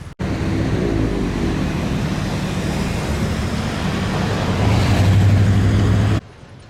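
Road traffic streaming past a construction site on a street corner in Inglewood, a continuous loud roar of cars and buses that swells near the end as a heavier vehicle passes close by, then stops abruptly.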